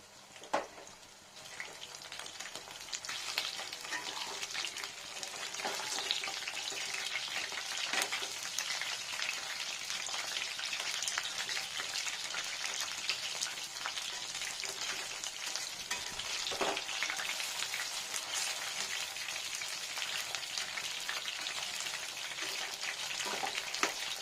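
Onions fry in a pan for dry chili chicken, giving a steady, close crackling sizzle with occasional stirring scrapes and no voices.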